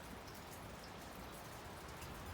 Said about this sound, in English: the rain on my car, the raindrops